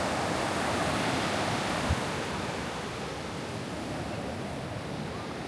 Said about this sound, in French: aujourd'hui les vagues elles sont pas en fait si grosses que ça